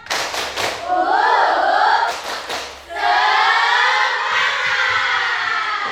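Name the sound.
class doing the rhythmic 'tepuk semangat' clapping chant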